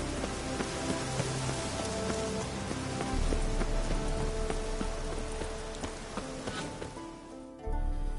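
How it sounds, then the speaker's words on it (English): Rain in The Witcher 3 video game: a steady, dense patter on surfaces under a low rumble, with a deeper, heavier stretch in the middle, then a sudden drop near the end. "Looks like rain."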